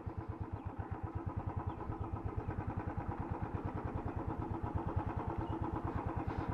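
A motorcycle engine runs steadily close by with a fast, even throb that holds the whole time, arriving near the sandy shore at Yarada Beach in Vizag. No voices are heard over it.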